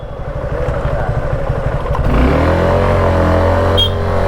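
A motorcycle rides up the road toward Chittorgarh Fort in Rajasthan, its engine a close, continuous chugging rumble that rises in pitch as it accelerates partway through, with faint rattling over the steady drone.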